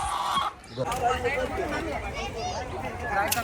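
A rooster's clucking calls rise over a busy village fair crowd with people talking nearby.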